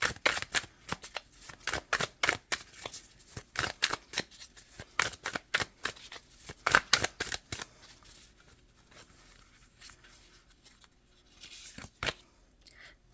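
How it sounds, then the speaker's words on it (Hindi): Tarot cards are shuffled close up in a quiet room, giving a quick series of sharp, papery slaps and riffles that thin out into a few sparse taps near the end. "आपके सामने सारे कार्ड शफल कर रही हूँ"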